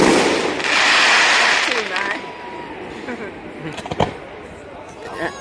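Fireworks at the 2017 Dunnville Mudcat festival, a loud hissing burst that fades into scattered crackles and a sharp pop, heard from a distance with people chattering nearby.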